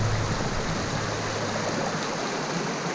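A creek rushes along the Pinchot Trail in the woods, producing a loud, dense, continuous hiss of flowing water close by with no voices.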